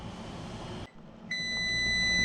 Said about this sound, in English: Okay, that timer's going off.